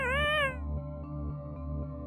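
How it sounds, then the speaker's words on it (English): A cat in the video game Yume Nikki gives a short, clear synthesized meow, rising then falling, followed by quiet looping game music with soft ticking beats. "Oh, she's just a cat."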